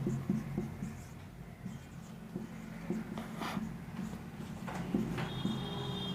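Writing on a board with a pen or chalk during a physics class lesson, faint soft scratching strokes in short bursts over a low room hum.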